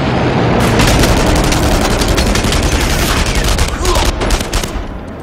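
A heavy, unbroken barrage of machine-gun fire and distant booms fills a firefight in the shooter Enemy Front, loud and steady throughout before thinning slightly at the end.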